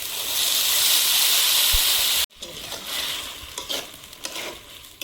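Water poured into a hot pan to make sugar syrup for sweets, a loud broad hiss and sizzle that cuts off sharply, then gives way to softer bubbling and light stirring clinks.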